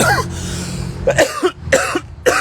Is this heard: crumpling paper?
no